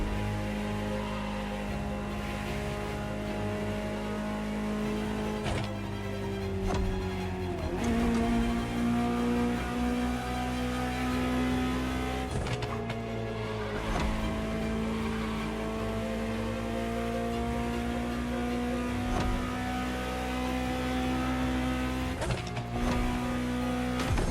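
A Ferrari supercar engine in the racing game The Crew Motorfest holds a steady, loud drone with rising gear pulls and brief shift breaks, sustained throughout with no talking.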